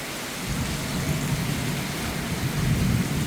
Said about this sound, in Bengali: দেখুন, তীব্র গরমের পরে প্রশান্তির বৃষ্টি